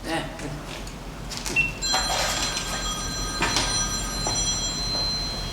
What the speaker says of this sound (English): That's funny, his phone is ringing.